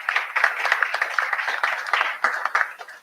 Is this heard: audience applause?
yes